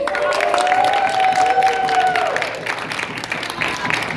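A theatre audience at an art and improv show at a fringe festival applauds warmly, dense clapping with some cheering, loud and close, fading slightly toward the end.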